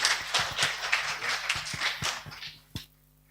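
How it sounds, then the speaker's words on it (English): Sparse, quiet clapping from a small group at a school English Day event, honoring the headmaster; a few distinct claps over a steady hum, dying out after under three seconds. "So I would like to clap, give a big applause for the headmaster."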